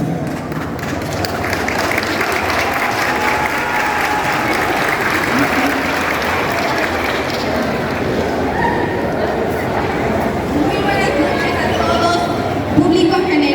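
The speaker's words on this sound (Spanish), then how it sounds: "con un aplauso a nuestra siguiente candidata" A crowd at a village patronal festival beauty pageant applauds a candidate, a loud sustained wash of clapping with cheers and a voice over it. A dog barks in the background.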